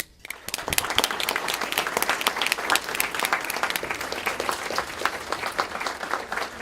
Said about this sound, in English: I would like to applaud you, my dear friend, Dr. Fischler